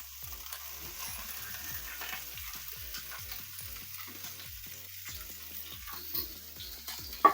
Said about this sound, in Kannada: ಅದೇ ಪ್ಯಾನ್ಗೆ ಮತ್ತೊಂದು ಸ್ಪೂನ್ ಎಣ್ಣೆ ಹಾಕಿ ಅದಕ್ಕೆ ನಾನು ಮೀಡಿಯಂ ಸೈಜಲ್ಲಿ ಕಟ್ ಮಾಡ್ಕೊಂಡಂತಹ ಕಾಯಿ ಮೆಣಸು, ಈರುಳ್ಳಿ